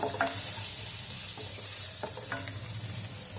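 A cabbage curry spice mix with turmeric is stirred in a hot pan, making a close, continuous sizzle with scraping spoon strokes and a few sharper clicks, and no voices.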